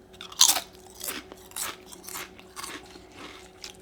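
Crunchy homemade air fryer chips are bitten and chewed close up. Sharp, loud crunches start the sequence, followed by several softer, rhythmic crunching chews with no talking.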